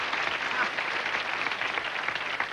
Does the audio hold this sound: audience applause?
yes